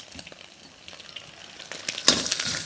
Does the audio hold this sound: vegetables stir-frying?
yes